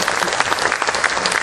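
Lawmakers at a party caucus meeting clap together in a brief, dense burst of applause, steady and fairly loud throughout.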